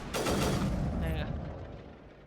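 A single heavy gunshot from the Mass Effect video game, close and booming, rolls out into a fading rumble over about two seconds.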